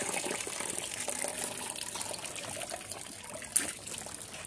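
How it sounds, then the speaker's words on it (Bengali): Tap water trickling and splashing while vegetables are washed in a kitchen, a steady faint stream with small splashes and one brief clunk near the end. "পরিষ্কার করে সবজিগুলো এখন আমি ধুয়ে নেব"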